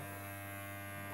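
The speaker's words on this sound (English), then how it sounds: "I've got the half inch or 13mm clipping attachment on there, the clipping cone." Electric hair clippers fitted with a 13mm clipping cone attachment, a steady close buzz with a low hum holding constant throughout, no voices.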